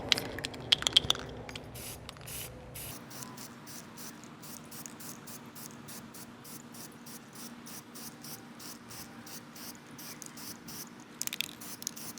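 Repeated short hissing bursts of spray paint being applied to a hanging herb garden, a steady rhythmic series of close, moderately loud sprays after a brief clatter at the start, with no talking.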